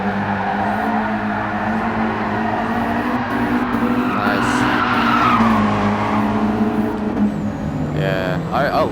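Tires squeal and skid as a Nissan 200SX S13 slides through corners on the Nordschleife in GT Sport, a loud sustained screech over the droning engine, with a voice talking underneath.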